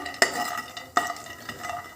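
Cashew nuts fry and get stirred in a pan, a soft sizzle beneath a few sharp scraping clinks of the spatula against the metal at uneven intervals.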